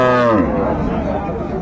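A dairy cow lows loudly at a busy rural cattle market in Dinajpur, a single long moo that starts strong and trails off into crowd chatter and background noise.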